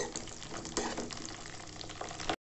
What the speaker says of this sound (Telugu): ఆయిల్ పెట్టుకుని పచ్చిమిరపకాయలు వేయించుకోండి